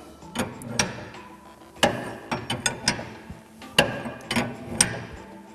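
A wrench ratchets a preload nut against a spring on a John Deere Gator track carriage, producing close, crisp bursts of rapid clicking in several uneven runs.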